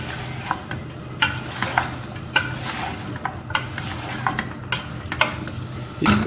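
Chicken karahi with red chilli fries in a pan while a spoon stirs it, giving a steady sizzle broken by regular scraping knocks against the metal, close and fairly loud with no speech.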